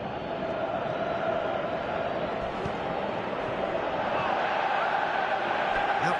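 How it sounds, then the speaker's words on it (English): A football crowd in a stadium gives a steady, broad roar of applause and murmuring for a good run, continuous and fairly loud throughout. "Crowd appreciates good football all round there."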